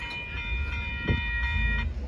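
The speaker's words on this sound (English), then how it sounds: "that was the Southbound Amtrak Texas Eagle 21 plus the horn show" The southbound Amtrak Texas Eagle 21 passes the Dittmar Road crossing in Austin, Texas, its horn sounding a loud, sustained chord over the rumble of rolling cars, close by and without speech.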